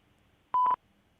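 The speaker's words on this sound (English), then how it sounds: "At the tone, please record your message." A single electronic voicemail recording tone sounds after a phone greeting, one steady pure beep lasting about a fifth of a second against near silence.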